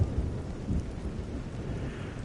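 Heavy rain pours steadily with a deep, rolling rumble of thunder underneath in the game Everybody's Gone to the Rapture, dense and continuous, no voices.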